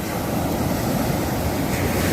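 Sea water and waves wash steadily up to a moored fishing boat on the shore, a continuous broadband roar with wind buffeting, loud and close, without voices.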